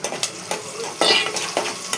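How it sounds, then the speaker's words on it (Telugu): A pan of frying food, with ginger paste and turmeric just added, sizzles steadily while a utensil scrapes and stirs it in repeated strokes, close and fairly loud with no one speaking. "ఇది కొంచెం వేగాలి."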